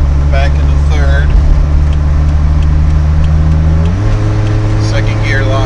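A Toyota truck engine hums steadily and loudly, its pitch stepping up as the automatic transmission shifts between gears with lockup engaging, while someone talks over it.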